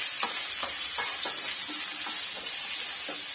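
Chopped ginger, garlic and onion sauté in a pan for an egg roast, giving a steady close sizzle with rhythmic scraping stirs roughly every half second.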